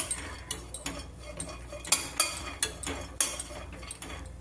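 Dry fruits and nuts roast in a kadai while a metal spoon stirs them, giving a steady run of sharp clinks and scrapes against the pan, close and clear with no talking.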